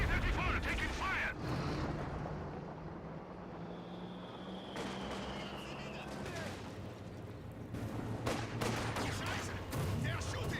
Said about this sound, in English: T-34 taking fire!